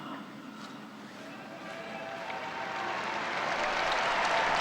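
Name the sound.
faithful applauding Pope Francis after the Angelus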